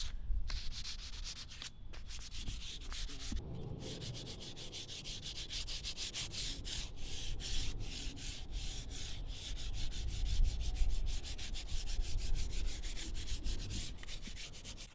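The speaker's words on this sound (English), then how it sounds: "we've got it all sanded, nice and smooth, whittled down" Sandpaper rubs a wooden atlatl smooth in rapid, rhythmic back-and-forth strokes, a close scratchy rasp that continues steadily with no voices.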